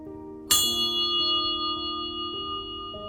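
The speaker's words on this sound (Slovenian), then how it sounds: "Zvon želja" A wishing bell along a mountain hiking trail is struck once, giving a bright clang that rings on with long sustained tones and gently wavers as it fades, with a softer second strike near the end.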